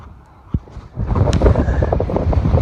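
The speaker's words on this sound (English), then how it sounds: "Oh baby, is it windy up here?" Strong gusty wind on a mountain buffets the microphone, building to a loud continuous low roar after a brief thump, with no voices.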